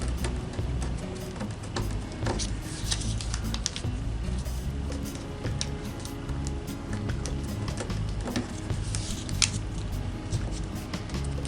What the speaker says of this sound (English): We're going to fold these four corners in.